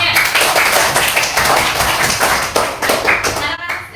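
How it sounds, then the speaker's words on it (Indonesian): Schoolchildren in a classroom clap loudly for two student groups during an Islamic studies lesson. The clapping is dense and energetic, lasts several seconds with voices mixed in, and then fades. "Tepuk tangan untuk kalian semuanya."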